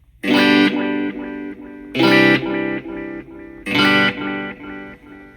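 Electric guitar runs through a Wampler Catacombs delay and reverb pedal, playing three loud strummed chords spaced evenly, each followed by fading echoing repeats and a reverb tail.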